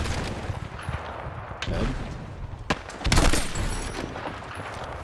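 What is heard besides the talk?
M4A1 rifle gunfire in video game Battlefield 6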